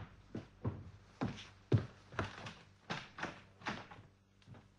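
A door being handled as a radio drama sound effect: a run of about nine sharp wooden knocks and thuds in an uneven rhythm, close and moderately loud, with no voices.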